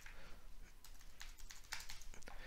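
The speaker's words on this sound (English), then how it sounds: "Just start typing in Device Manager till you see it." Keys clatter on a computer keyboard in quick, uneven bursts of crisp clicks, close and alone without talk.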